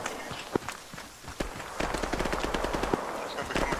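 Bursts of rapid video game gunfire crackle in quick, uneven volleys, mid-distance, with some shots sounding sharper and nearer than others.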